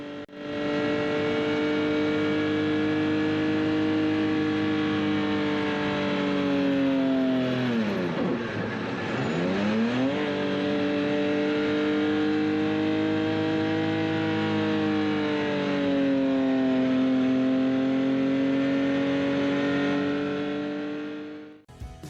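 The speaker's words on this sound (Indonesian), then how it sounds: "seperti inilah suara kebisingan yang masuk ke ruang kabin pengemudi" Inside the driver's cabin of a Yamaha OX99-11, its F1-derived engine drones loudly with a steady harmonic roar, dipping briefly in pitch mid-way before climbing and holding again, continuous and close with no talk.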